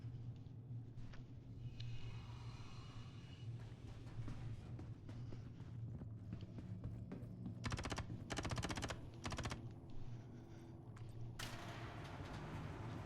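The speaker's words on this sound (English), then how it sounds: "these good guys will continue to shoot the bad guys even after they're dead" Automatic gunfire from NPC soldiers in a Star Citizen bunker mission, heard as repeated rapid bursts that cluster near the end over a steady background hum of game ambience.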